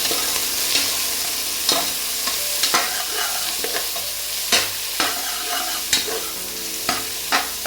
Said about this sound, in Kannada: ಇದನ್ನು ಅಷ್ಟೇ ಹಾಗೆ ಸ್ವಲ್ಪ ಹೊತ್ತು ಆಯಿಲಲ್ಲಿ ಫ್ರೈ ಮಾಡಬೇಕು.